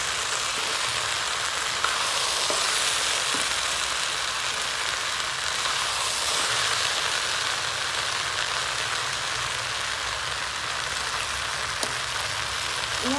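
Okra (bhindi) stir-fried on low gas for a yogurt-based dahi bhindi, giving a steady, even hiss and sizzle that stays soft and constant throughout with no voices.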